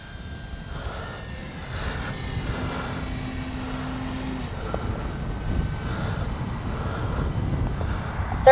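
An E-flite Timber RC airplane flies overhead on an outdoor field, its electric motor and propeller giving a steady buzzing whine that rises and falls in pitch as the plane passes. The sound is moderately loud and stays continuous throughout.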